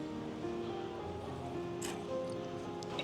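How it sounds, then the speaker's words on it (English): Water from waterfalls down Wangxian Valley in China makes a faint, steady rush far off, a constant, even wash with no talking. "You actually can hear the water from the waterfalls down the valley."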